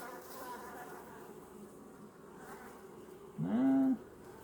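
Honey bees buzz around an open hive during an inspection, a soft steady drone with one louder bee passing close near the end.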